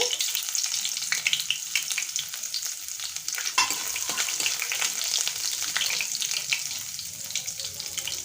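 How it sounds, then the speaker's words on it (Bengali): Chopped ginger sizzles in hot oil with whole five-spice seeds, a bay leaf and dried red chilies for a papaya oil pickle. A steady, close, bright crackle runs throughout, with scraping stirs and no talking. "একটু নেড়ে চেড়ে আদা কুচিটা দিয়ে দিচ্ছি"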